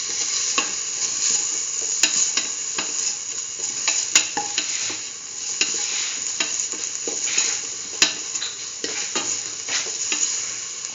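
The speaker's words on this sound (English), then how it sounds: "Salt and mix the salt with the rest of the ingredients." Rice and chayote are stirred with salt in a hot pan, giving a steady close sizzle broken by repeated scraping strokes and occasional sharp clicks of the utensil against the pan.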